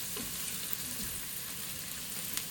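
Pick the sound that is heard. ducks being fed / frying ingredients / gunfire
frying ingredients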